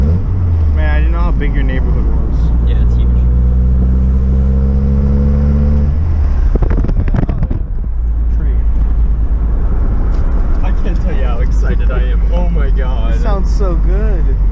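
A Mazda Miata fitted with a Roadster Sport 4 exhaust drives through a neighborhood, its engine humming steadily inside the cabin, rising and falling with throttle; occupants talk over the drone throughout.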